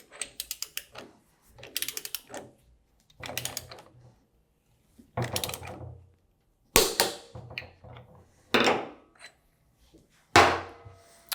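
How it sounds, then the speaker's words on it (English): A wrench torques the rotor nuts on a Waukesha Universal 2 PD pump, producing about eight separate bursts of close, loud ratcheting clicks with short pauses between them and no talking. "this will conclude the torquing of the rotor and the reassembly on a Waukesha Universal 2 PD pump"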